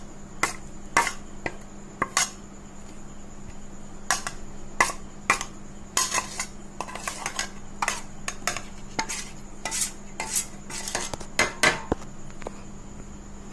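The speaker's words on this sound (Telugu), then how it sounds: "ఒక బౌల్లోకి ఒక ఎగ్ కొట్టుకోవాలి" An egg is whisked in a bowl for a spicy restaurant-style omelette: rapid, uneven clinks of a utensil against the bowl, close and crisp, in bursts over a faint steady hum.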